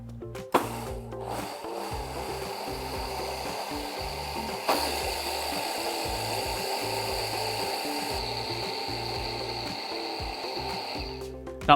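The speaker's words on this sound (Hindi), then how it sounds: "इसे सबसे पहले ड्राई ग्राइंड करना है" An electric grinder dry-grinds sesame seeds for tahini, running with a loud steady whirring roar and rattling seeds, briefly interrupted and restarted around the middle, with no talking.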